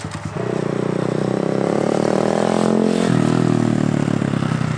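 A Honda Grom motorcycle engine runs close by, a steady buzzy idle that climbs in pitch, then drops suddenly near the three-second mark and keeps going at a lower, even drone.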